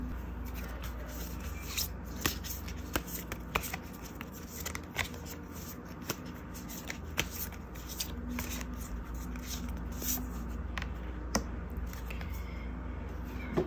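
Tarot cards are shuffled and drawn by hand in a quiet room, a soft continuous rustle with small papery flicks and taps repeating throughout.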